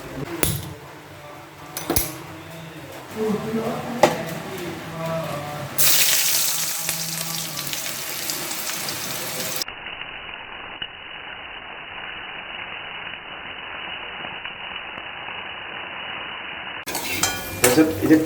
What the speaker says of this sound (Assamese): এই ইয়াত থকা এইখিনিকে ভাজি দিওঁ